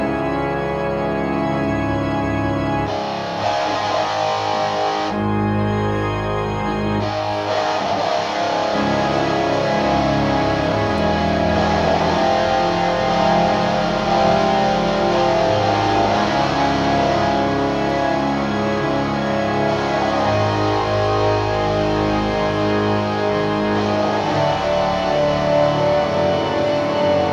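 Recorded pipe organ played back, sustained chords with rich layered tones at moderate level, holding and shifting harmonies throughout with brief changes in texture, no talking.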